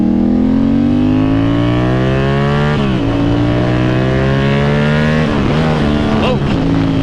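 A 2024 Yamaha R7 engine drones loud and close, pitch climbing steadily before a missed gear shift makes it stumble and waver, then rises again with a brief rough catch near the end.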